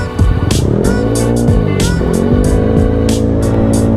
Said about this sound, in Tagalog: Grabe traffic dito sa Laguna.